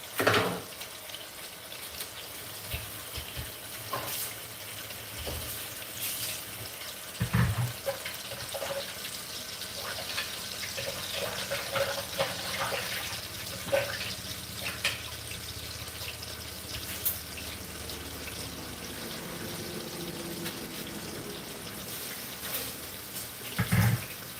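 Tap water runs steadily into a kitchen sink while garlic is rinsed for seasoning meat, a continuous faint splashing with occasional louder knocks and drips, no talking.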